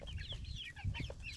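Several chickens cluck and chatter close by in short, overlapping bursts during feeding in Tennessee.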